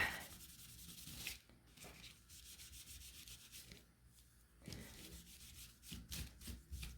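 Steady rubbing and wiping strokes of a cloth spreading glaze across a wooden wreath surface, repeated in bursts with brief pauses, close and fairly quiet.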